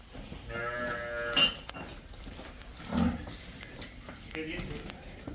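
Cattle and buffalo on a dairy farm, with a clear moo near the start and livestock shuffling, while people talk nearby.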